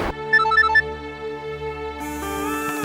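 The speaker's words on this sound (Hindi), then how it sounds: "ठुमरी से भी ज्यादा जरूरी रणवीर का फोन है।" A melodic phone ringtone plays a short repeating tune, then shifts into a fuller, brighter musical passage, loud and close with no talking.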